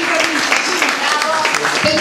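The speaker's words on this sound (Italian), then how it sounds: "Un applauso al chitarrista." Applause from an audience for a guitarist during a Carmelo Bene tribute performance in Lecce: a dense, steady wash of clapping for about two seconds, with voices and tonal sounds mixed in over it.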